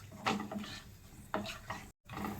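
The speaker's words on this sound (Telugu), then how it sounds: "మనకైతే బిర్యానీ స్పైసెస్ మొత్తం ఫ్రై అయిపోయింది" Biryani spices frying in a pan with oil while being stirred, giving soft scraping strokes and light sizzling in short bursts close to the microphone, ending with a brief cut to silence.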